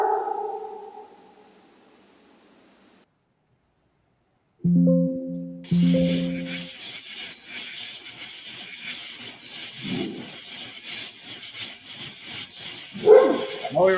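A dog gives a faint, distant woof amid steady electronic tones and background hiss, with people talking briefly.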